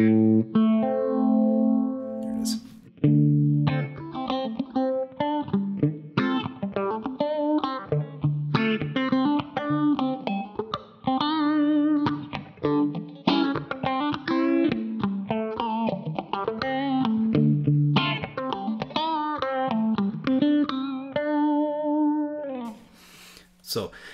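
An electric guitar played through a MayFly Audio Sketchy Zebra chorus pedal, a run of melodic picked notes with wavering, thickened tone, close and sustained.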